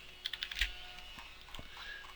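Typing code on a computer keyboard: a quick run of close, crisp key clicks, followed by a pause and then a few softer keystrokes.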